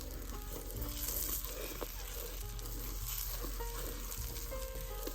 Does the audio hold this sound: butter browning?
yes